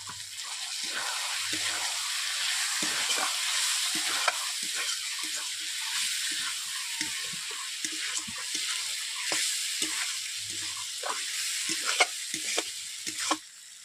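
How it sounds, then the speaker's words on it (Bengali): Chicken fries in a pan with coriander paste, a loud steady close sizzle and hiss broken by repeated scraping stirs of a spoon through the thick mixture. "চিকেনটাকে আমি 5 থেকে 7 মিনিট কষিয়ে নিচ্ছি এইভাবে"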